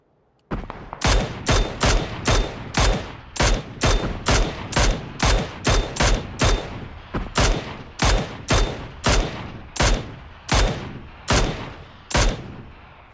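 Rapid gunfire in the PUBG battle royale game: roughly twenty sharp, loud shots in a steady, evenly spaced rhythm, close and clear with no talk over them.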